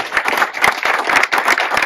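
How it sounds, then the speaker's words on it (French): An audience at a farm awards ceremony applauds in a dense, steady burst of clapping, close and loud, with no voices. "donc bravo, on peut vous applaudir."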